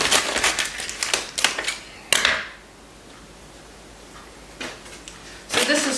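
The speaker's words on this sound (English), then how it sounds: "I'm going to use the scissors because this is not cooperating." Scissors cutting open a plastic bag of mini baking chips in a kitchen: a few quick, crisp snips and crinkly plastic rustles in short bursts, separated by a quiet pause.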